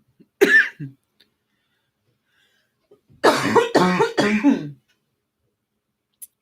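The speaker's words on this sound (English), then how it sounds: "Oy, coughing." A single throaty cough or throat-clear up close, then a stretch of silence before someone talks briefly.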